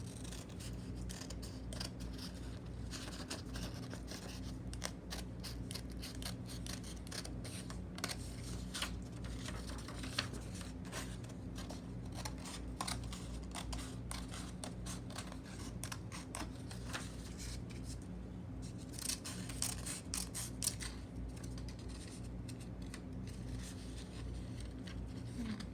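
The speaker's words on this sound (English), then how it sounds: "And I'm going to cut it out." Scissors snip steadily through a sheet of paper as a triangle shape is cut out by hand, a long run of close, dry, rhythmic cuts with soft paper rustle over a low steady hum.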